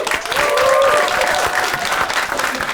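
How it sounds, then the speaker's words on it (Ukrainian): Audience at a Ukrainian roast battle comedy event breaks into sustained, dense applause, loud and even throughout, with a faint tonal whine briefly riding above the clapping crowd. "Валерія Михайлова під ваші бурхливі оплески"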